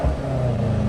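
A car engine rumbles and revs steadily at close range, a continuous low drone without pauses over a short moment.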